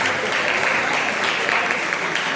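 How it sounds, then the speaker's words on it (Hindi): An audience at the Anand Mahotsav 2025 festival, organized by Mumukshu Ashram, breaks into loud, sustained applause. The dense clapping stays steady for the whole stretch. "एक बार जोरदार तालियां होंगी तन्मय के लिए"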